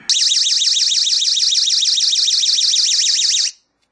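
A SABRE door and window alarm blares shrilly close by with a rapid warbling pitch for about three and a half seconds, then stops abruptly.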